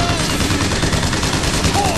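Sustained automatic gunfire from the video game Bioshock Infinite rattles along at a loud, constant level with no break across the whole stretch.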